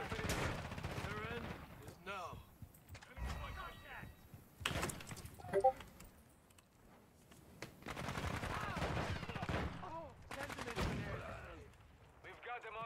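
Gunfire in Call of Duty MW2 comes in scattered sharp cracks and short bursts, mixed with mechanical game noises, while voices talk over the action throughout at a fairly low overall level.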